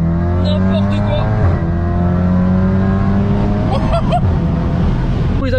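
A VW Golf 7R with a Stage 3+ tune making 530 hp, its engine droning loud and steady from inside the car as it drives, with the pitch rising gradually and a few brief sharper bursts near the end.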